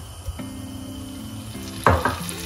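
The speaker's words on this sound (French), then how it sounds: "on va faire dorer notre lapin" Rabbit pieces hit a pan of grapeseed oil and butter and begin to brown, with a low sizzle, a utensil clatter and a sharper burst of frying near the end.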